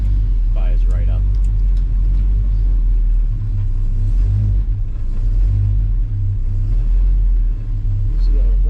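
A 1969 Chevelle with a 396 V8 rumbles at a deep, loping idle right after starting in a tight garage, heavy low throb throughout while a person speaks over it.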